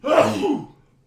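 A single short sneeze from a person indoors, a quick sharp burst that fades within about half a second, with no talk over it.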